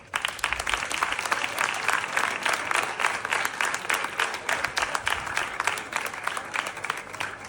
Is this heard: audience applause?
yes